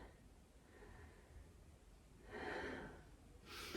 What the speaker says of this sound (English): Take a nice couple of deep breaths here.